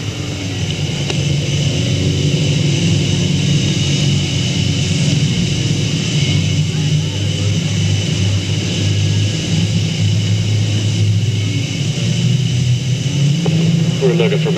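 Stock cars racing at Delta Speedway on the last lap, a steady loud roar of engines from the field with a public-address announcer talking over it.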